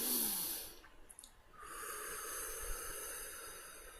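Slow, deep breathing close to the microphone during a meditative spoken reflection: a long airy hiss of breath in and out, fairly faint, with no talking over it.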